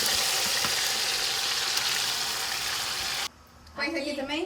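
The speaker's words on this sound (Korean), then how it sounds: "직접 갈아 만든 다양한 향신료를 넣어 볶는다" Chicken frying in a pan with freshly ground spices after a lemon-juice rinse, a steady close sizzle for about three seconds before it cuts off and a voice speaks briefly.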